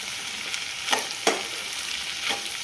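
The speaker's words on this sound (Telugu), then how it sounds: "కారం వేసుకొని ఒక్క 2 నిమిషాలు ఫ్రై చేసుకుందాం" Sliced okra fries and sizzles in a pan with chili powder for a crisp South Indian dry fry, a steady close hiss broken by a few soft scrapes of stirring, with no talking.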